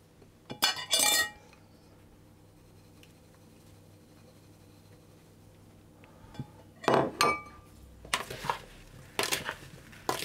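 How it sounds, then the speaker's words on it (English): A utensil stirs plum slices with sugar and corn flour in a bowl, giving a few short bursts of clinking and scraping separated by quiet gaps. "I'm going to add in my sugar and corn flour and stir that around"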